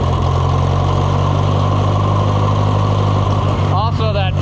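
An Oliver 1250 tractor engine runs steadily at idle with the choke set, a loud continuous low rumble throughout with a voice speaking briefly near the end.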